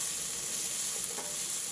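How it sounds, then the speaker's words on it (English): Leftover turkey breast and lime juice sizzle steadily in a hot pan, a continuous close, bright frying hiss with no talking. "you hear that sizzle"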